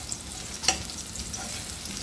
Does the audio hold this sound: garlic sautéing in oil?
yes